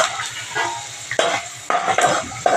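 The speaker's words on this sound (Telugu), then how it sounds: "పల్లీలు వేసుకున్నాం. వేగిపోయినండి, తీసుకుందామండి ప్లేట్లోకి." Peanuts frying and being stirred in a pan, with repeated scraping and clatter of a utensil against the metal at close range over a low sizzle, in bursts about every half second to second.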